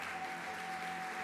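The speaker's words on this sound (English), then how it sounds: "let's give them like a big round of applause again" Brief, even burst of audience clapping at a PhD graduation ceremony, a steady dense patter heard from a distance.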